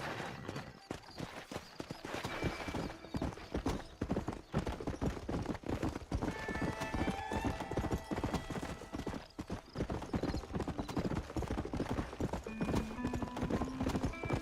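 Horse hooves clip-clop in a steady, continuous gait while riding in the video game Red Dead Redemption, with a brief whinny and faint background tones.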